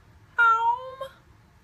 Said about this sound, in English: He just meows back at me.